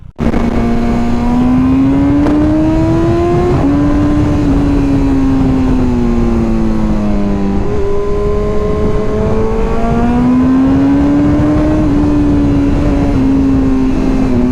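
BMW S1000RR or GS1300 superbike pulling hard on a Sunday ride, its engine loud and close, revving up through several gear changes with pitch climbing, dropping and climbing again without a break.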